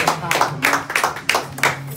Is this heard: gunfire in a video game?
no